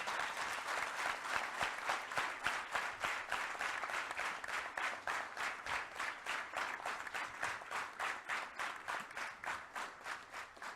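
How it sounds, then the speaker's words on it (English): A crowd claps for graduating students of a PGPBA batch, sustained even applause lasting throughout at moderate distance, with no voices. "Please give a huge round of applause to all of them."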